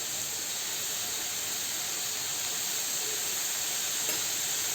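Sliced mushrooms sautéing with salt in a hot pan, a steady dense sizzle and hiss running unbroken and close throughout.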